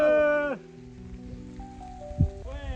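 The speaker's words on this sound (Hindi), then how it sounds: "बारिश हो रहा है" Light rain patters softly in Buttan Village in Pakistan's Kaghan valley, a faint, even patter behind a few short voiced sounds and a low hum.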